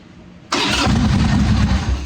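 A 1981 Harley-Davidson Ironhead Sportster XLH engine cranks and fires after brief quiet, then settles into a loud, close, rumbling idle with an uneven lumpy beat.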